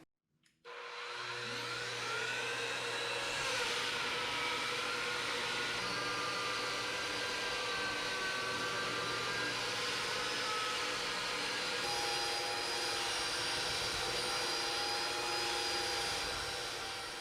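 A belt sander starts up on a solid wood table top panel after a brief knock, then runs on in a loud, steady whining drone. It continues without a break for the whole stretch.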